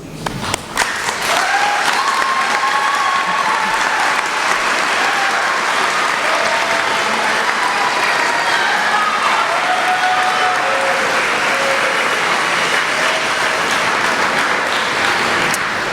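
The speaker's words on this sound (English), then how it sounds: "please rise to give your thanks and a round of applause for your parents and loved ones" Sustained, loud applause from a graduation ceremony audience at a high school, a dense wash of many hands clapping steadily for the full stretch with no talk over it.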